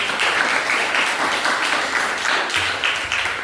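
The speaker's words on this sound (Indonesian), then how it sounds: "Tepuk tangan untuk teman-teman" A classroom of students claps steadily for their classmates, a continuous even roar of applause without pauses or speech.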